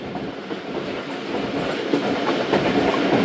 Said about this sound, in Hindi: तकरीबन दोस्तों 80 किलोमीटर की स्पीड से ट्रेन पास हो रही है